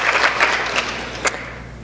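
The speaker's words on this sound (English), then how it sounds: "So let's give her a round of applause" An audience at a high school academic achievement awards ceremony gives a short round of applause that thins out and fades, with a few distinct claps standing out near the end.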